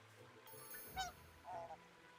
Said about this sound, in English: Did I just greet a duck?